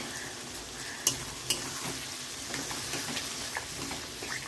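Ridge gourd with poppy seeds being stirred in a frying pan, a steady soft sizzle broken by a couple of light clinks of the spoon against the pan.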